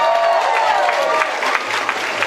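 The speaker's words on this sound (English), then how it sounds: "Give a round of applause for Jada Amaya." Audience at a high school improv night applauds for a performer, a broad steady wash of clapping from a crowd that holds throughout, with faint chatter mixed in.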